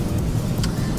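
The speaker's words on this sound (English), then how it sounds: "I got a car, which I'm driving in now" A car rolls along, heard from inside the cabin as a steady low road and engine hum at moderate level, brief and continuous with no speech.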